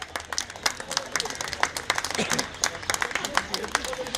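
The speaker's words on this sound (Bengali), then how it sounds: "ওনার জন্য একটা জোরে হাততালি হোক।" Crowd applause at a Sylheti cultural festival in Kolkata, a steady patter of many hands clapping with sharp individual claps standing out, continuing for several seconds.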